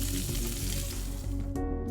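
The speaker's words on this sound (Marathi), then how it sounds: "पॅन मध्ये तेल घालून घेऊन मोहरी, जिरे याची फोडणी द्यायची" Mustard seeds, cumin and curry leaves sizzle in hot oil in a pan for a tempering of potato bhaji, a dense, steady crackling hiss that cuts off abruptly near the end.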